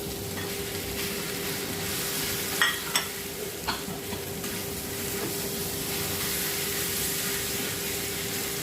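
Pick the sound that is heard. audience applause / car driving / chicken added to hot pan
chicken added to hot pan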